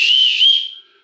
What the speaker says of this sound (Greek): Λοιπόν, σφυρίχτα.